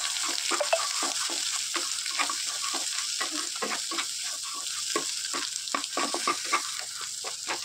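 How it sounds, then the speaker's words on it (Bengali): Dhaba-style egg tadka with turmeric, cumin powder and chilli powder sizzling in a pan, stirred steadily with a spoon whose regular scraping taps sit over a continuous close frying hiss. "এই যে বন্ধুরা একটু নাড়াচাড়া করে নিচ্ছি"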